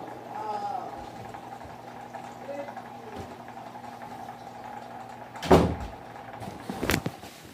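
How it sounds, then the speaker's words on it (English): A door is closed indoors: two short, fairly close knocks and thumps near the end over a low steady hum, with voices talking faintly earlier. "I'm gonna close my door."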